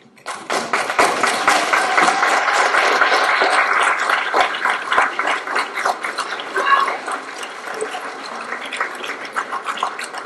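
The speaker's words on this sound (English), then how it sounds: "give them a round of applause" Students at an educator preparation pinning ceremony, standing and facing the honorees, give a sustained round of applause that fills the room for several seconds before thinning out.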